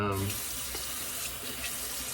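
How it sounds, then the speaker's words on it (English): Hot water runs steadily from a tap into a sink, filling a bowl for soaking a shaving brush and soap puck; the rushing flow is close and even throughout, with a faint voice at the very start. "you put a lot of hot water in here with your puck and soak your brush in it, dump the water out"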